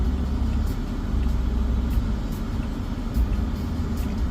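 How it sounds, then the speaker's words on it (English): Steady road traffic rumble heard from inside a moving car in busy city driving, a continuous low engine and tyre drone with faint passing swells and no speech. "There's so much traffic."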